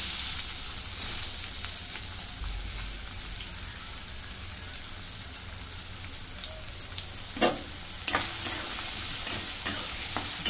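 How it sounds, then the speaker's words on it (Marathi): Chopped onion frying in hot oil for chole bhature, a steady close sizzle throughout, with sharp spatula scrapes and clacks against the pan growing more frequent toward the end; no voices. "तेल गरम झाले. कांदा टाकून घेते."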